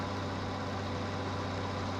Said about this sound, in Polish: I teraz wejdź do środka i włącz kombajn